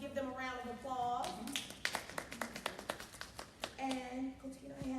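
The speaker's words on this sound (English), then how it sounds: "If y'all would just give them a round of applause." A small audience claps for a panel, a sparse run of distinct hand claps of a few seconds, with a speaker talking just before and after.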